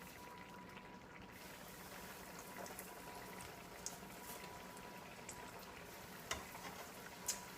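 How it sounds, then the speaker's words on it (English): Steady, faint sizzling and bubbling of fish frying in hot oil, with a few small pops and crackles scattered throughout. "I'm going to start frying my fish."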